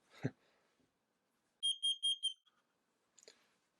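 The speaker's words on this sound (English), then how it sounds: "Okay, so there's the beep. So it's still testing. It's very loud, as you would expect." An AEGISLINK Wi-Fi combination smoke and carbon monoxide alarm, during a test, lets out a burst of four shrill, piercing beeps, set between faint handling noises in a quiet room.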